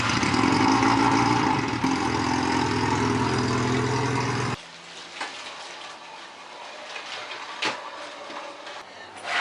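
A Honda CB750 motorcycle engine runs loud and close with a rough, steady rumble for several seconds, then cuts out abruptly, leaving faint background noise and scattered knocks.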